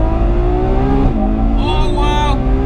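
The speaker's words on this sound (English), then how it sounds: "I'm sure you can hear those gear shifts," The V12 of a 2022 Ferrari 812 Competizione revs hard and loud, with a sharp pitch drop at each gear shift and rising whine afterward, continuous and close.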